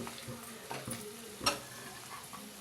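Chopped onions sizzle and crackle in a hot pan while browning for a Telugu korameenu fish pittu, with a steady frying hiss broken by a few sharp pops, one especially loud, and no talking.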